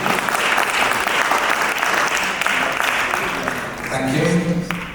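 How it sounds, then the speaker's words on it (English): Seated audience at a peace delegation gathering gives loud, sustained applause for an honoured guest, dense clapping throughout, with a voice rising near the end. "A huge round of applause for Shri Harish Koslani ji."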